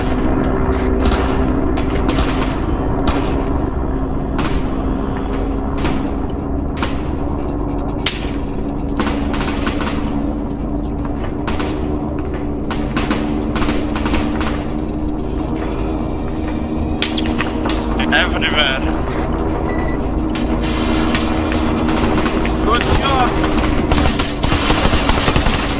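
Gunfire in a military video game operation: rapid, repeated shots crack out in irregular bursts over a steady low rumble, loud and close throughout with no talking.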